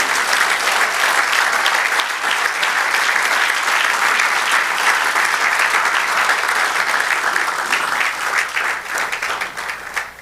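Loud, continuous applause fills a church service, a thick, even roar of many hands clapping that holds for about ten seconds before thinning slightly at the close.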